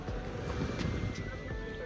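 Small boat out on open water, with steady wind rumble and wave wash filling the scene and faint talk now and then underneath.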